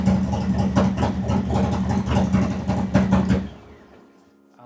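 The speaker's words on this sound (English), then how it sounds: "See how it cranks. And that's a cold start for you guys also," Harley-Davidson Low Rider S motorcycle engine running just after a cold start, a loud, steady, lumpy idle with rhythmic pulsing that cuts off abruptly near the end, leaving near silence.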